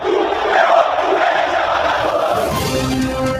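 Vasco football fans in the stands at São Januário roar and chant as a dense, sustained crowd noise, loud and continuous throughout.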